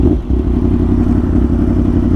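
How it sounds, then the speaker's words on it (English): A motorcycle rides behind on an open road, giving a loud, steady engine drone with wind rumble and no voices. "Is that a bike behind me? That is a bike behind me."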